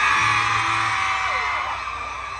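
A concert crowd at a live dancehall performance in May Pen, at the 2025 Munk Truck Show, lets out a loud, sustained roar of screams and whoops that fades slightly over a couple of seconds.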